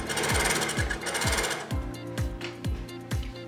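A GN1-6D semi-industrial overlock sewing machine stitches fabric with a fast, loud mechanical whir and a regular thumping rhythm throughout, with no talking.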